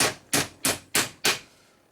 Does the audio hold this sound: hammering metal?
yes